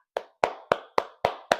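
Six distinct hand claps in a slow, even rhythm, close and crisp with brief decays, heard on their own with no talking during a toddler alphabet lesson on the letter F.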